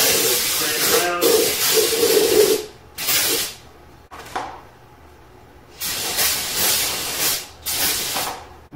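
Brake cleaner sprays in several loud, hissing aerosol bursts onto the rear brake rotor of a 2015 Jeep Cherokee, with short pauses between blasts and a faint voice underneath at the start.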